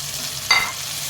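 Tomatoes go into a pan of frying ginger and garlic for tawa chicken, and a brief sharp sizzle bursts out midway over a steady, soft frying hiss.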